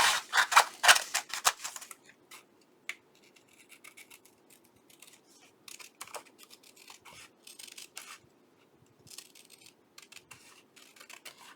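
Scissors snip through paper while a journal is being made, a quick run of sharp close cuts at the start followed by sparser, quieter snips and rustling.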